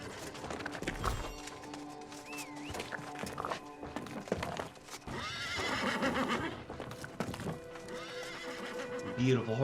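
Horses neighing and whinnying in the fantasy game New World: Aeternum, mixed with clip-clop hooves and game ambience, with talk over parts of it.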